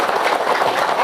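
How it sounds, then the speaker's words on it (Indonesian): An audience of colleagues at a talk claps in a brief, loud burst of fast overlapping hand claps, close and busy for about a second. "Oke, tepuk tangan rekan-rekan sekalian."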